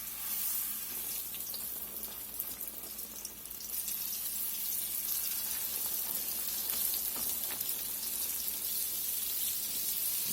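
Pork chops frying in a pan of hot oil, a steady broadband sizzle and crackle that runs unbroken and fairly loud throughout, with no voices.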